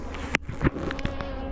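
Honey bees buzz around an opened hive, a faint close hum with a few louder passes of individual insects near the ear, with no talk.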